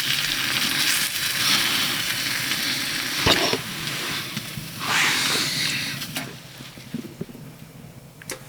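Pulled pork in a bag warms on a stove inside a hot tent at -21°C, giving a steady close sizzling hiss that swells in two broad surges with a sharp click between them.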